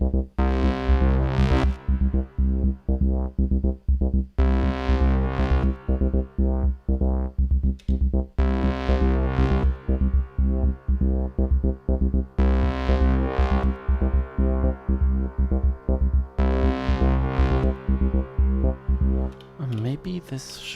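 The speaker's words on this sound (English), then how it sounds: "I want to see what happens if I add some effects to this sound, like some little reverb" A deep, buzzy synth plays sustained notes in repeated phrases, each tail ringing out with a wash of reverb; loud and alone.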